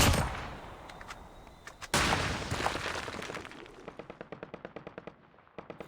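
Rapid machine-gun bursts in the mobile shooter COD Mobile Warzone, a dense volley giving way to a steady run of evenly spaced shots, loud and close with no talking.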